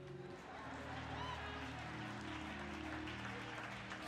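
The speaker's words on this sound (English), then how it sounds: "Y'all ought to clap, because I fake getting those names right." A congregation at a church anniversary celebration gives faint, sustained applause, heard distant and soft under a low musical drone.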